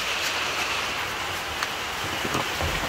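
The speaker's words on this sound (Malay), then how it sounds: "Hujan pula." Steady rain falls over an outdoor kitchen garden, a dense even patter with scattered drops, alone and fairly close.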